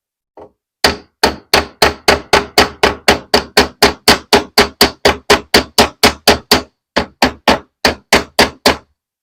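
A hammer taps nails tight on a mid-century modern dresser, striking about thirty sharp, evenly spaced blows in a steady rhythm with one short pause near the end, close and crisp with no talking.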